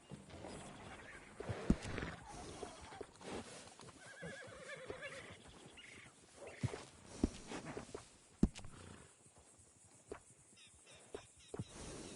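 Horse hooves clip-clop and a horse whinnies in the Red Dead video game, with irregular hoof taps and louder neighing bursts over a steady game ambience.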